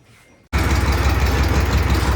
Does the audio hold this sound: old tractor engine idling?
yes